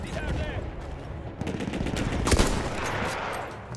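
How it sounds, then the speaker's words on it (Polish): Distant gunfire in the video game Battlefield 1, a rapid rattle of automatic shots and bursts with one sharper nearby crack, continuous against a busy battlefield din. "Tam jeszcze kurde z oddali strzela."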